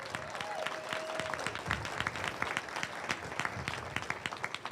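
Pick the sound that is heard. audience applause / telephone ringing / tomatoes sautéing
audience applause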